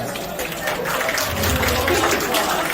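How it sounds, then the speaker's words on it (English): Applause for the cake presenters at a 65th birthday party, steady broadband clapping from a small group that swells slightly and continues throughout, with some background voices mixed in. "For those that are already presented, big round of applause."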